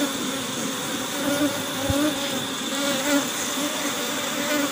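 Honeybees swarm and buzz around an open beehive during a split follow-up at a Jamaican apiary, a dense, steady, close drone that fills the whole clip with no talking.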